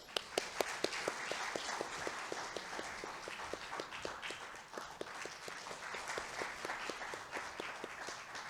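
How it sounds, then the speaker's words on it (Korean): An audience at the opening ceremony of an electrical engineering conference applauds to welcome a speaker. The clapping is faint and sustained, with a few distinct claps standing out near the start. "큰 박수로 환영해 주시기 바랍니다."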